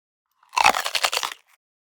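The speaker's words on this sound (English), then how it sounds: "I realized this paprika sounded a lot like a human biting an apple or something like that, even though it's, I think, just them crunching pepper" Crisp, close crunching of paprika pepper for a sound effect, a dense burst of several rapid bites and cracks lasting under a second against silence, resembling a person biting into an apple.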